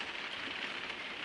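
Steady rain falls outside in an even, close hiss of drops on surfaces, a brief unbroken patter with no voices.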